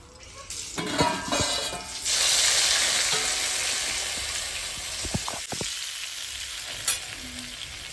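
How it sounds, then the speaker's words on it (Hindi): Hot mustard oil sizzles and crackles loudly as nigella seeds hit the pan, a bright steady frying hiss with a few clinks of a spoon. "कलौंजी से लगा दिया है तड़का"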